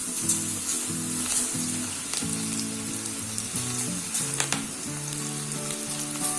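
Pakoda batter fries in hot oil over a medium flame, giving a steady close sizzle and crackle throughout while a low tonal hum runs underneath.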